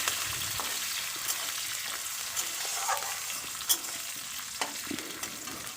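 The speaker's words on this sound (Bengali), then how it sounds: "দেড় মিনিট মতো নাড়িয়ে চাড়িয়ে ভেজে নেব।" Chopped green chillies stir-fry in hot oil for a chilli mango pickle, a steady close sizzle broken by repeated scrapes and clinks of stirring.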